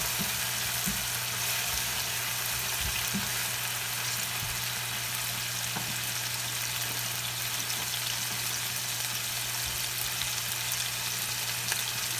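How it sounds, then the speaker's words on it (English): Steady sizzling of ampalaya (bitter melon) sauteing in a hot pan, a continuous crackling hiss with occasional small pops, close by and without talk. "we'll saute it for maybe 1 minute."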